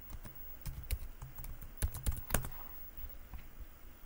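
Keys clack on a computer keyboard in short, irregular bursts of typing, quiet and close, with no talking.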